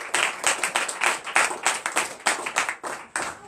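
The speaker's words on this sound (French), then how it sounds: "Donnez l'acclamation à Jésus." A church congregation at a night prayer service in Benin claps together in acclamation. The claps are loud, rhythmic and closely spaced, with a few voices mixed in.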